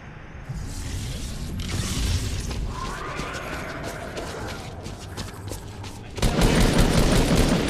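Dense rapid gunfire and explosions from a zombie-shooting video game at a live tournament event, a loud, continuous barrage of shots with a sharper burst near the end.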